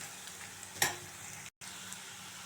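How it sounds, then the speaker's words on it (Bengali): Onion frying in a pan, a steady soft sizzle running throughout with a brief louder stir or scrape near the start, close and unaccompanied by talk. "পেঁয়াজটা হচ্ছে, আর একটু ফ্রাই হবে।"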